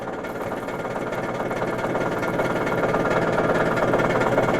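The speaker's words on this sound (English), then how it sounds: "As you can see right now, the pump is coming on." A pump running inside an Electro Freeze 5099 soft-serve machine while the machine is primed, giving a steady, close mechanical hum with a buzzing rattle that builds slightly and holds without a break.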